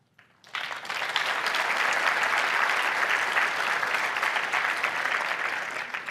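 Applause from a large audience at a data science conference breaks out after a quiet moment and holds steady, dense and broad from start to finish.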